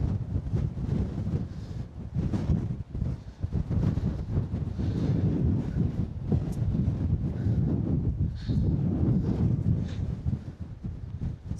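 Strong wind gusts over a ridge and buffet the microphone, a loud continuous low roar that swells and eases throughout.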